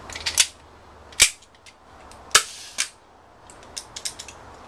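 Butane-powered airsoft gas gun firing: several sharp, close snapping pops spaced irregularly, followed by a cluster of weaker clicks, with no talk.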